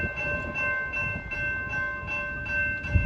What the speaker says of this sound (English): we have a westbound approaching the Greenway Road crossing at 11:58